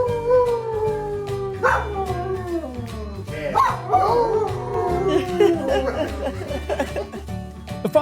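A pet dog howls in long, wavering, sliding tones indoors by a window, rising and falling across several drawn-out cries with faint background laughter.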